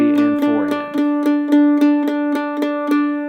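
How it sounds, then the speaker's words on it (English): Mandolin played with alternate picking in steady 4/4 time for an Irish jig lesson, a run of evenly spaced bright ringing plucked notes, close and clear with no talk. "when we play those types of tunes, we are going to be alternating our pick. It sounds like this"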